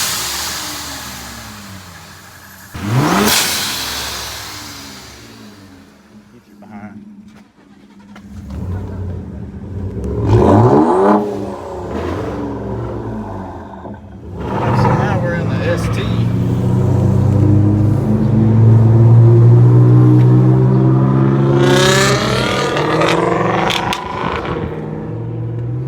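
A 2020 Ford Explorer ST engine revs and climbs in pitch during a ride, swelling loud near the end, with people talking over the engine noise.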